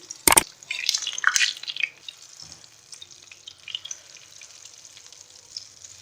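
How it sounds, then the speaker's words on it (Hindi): Egg-dipped mutton shami kabab frying in hot oil, a loud crackling sizzle as it goes in, easing to a softer bubbling hiss with a few faint pops and drips, close by with no talk. "अब मैं एक शामी कबाब लूँगी, उसको अंडे में यूँ डिप करूँगी, फ्राई कर लूँगी।"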